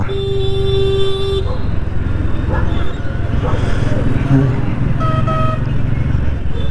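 Vehicle horns honk nearby in traffic, a long blast followed later by a shorter beep, over rumbling engines and voices.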